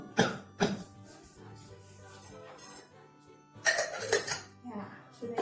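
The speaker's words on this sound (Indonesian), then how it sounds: "keluarkan batuk Pak" A patient performs effective coughing to clear phlegm during a guided breathing exercise, giving a few sharp coughs near the start and a cluster later, with a voice speaking quietly between them.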